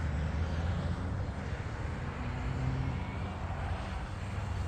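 An E-flite Valiant RC model airplane on a 3S battery flies at a model aircraft field, a steady, continuous electric motor drone filling the air without pause.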